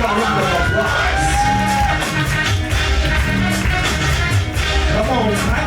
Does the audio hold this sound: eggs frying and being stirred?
no